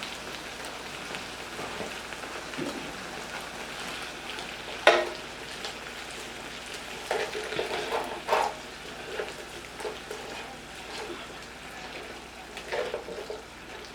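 Frozen shrimp hit a hot pan for steak and shrimp pasta and crackle with a dense, rain-like sizzle, broken by sharper pops and spatters throughout.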